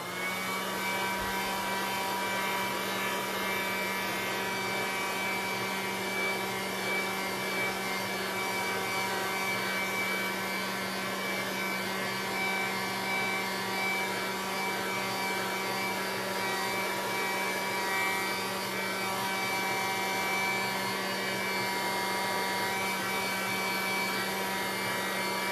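A heat tool blows hot air onto an MDF panel during a mixed media craft project, giving a steady, unbroken whooshing roar with a constant hum that holds at the same level throughout.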